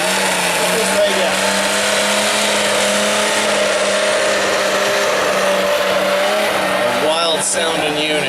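A modified mini race car engine screams steadily at a prairie track night race, a loud, buzzy, high-revving drone holding near constant pitch with a brief rev change near the end, a voice talking beneath it.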